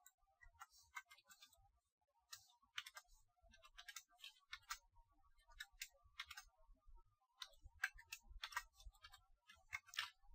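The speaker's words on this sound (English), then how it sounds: "So over here I'll just type some random stuff." Quiet bursts of typing on a computer keyboard, clustered runs of light key clicks separated by short pauses, with no talking.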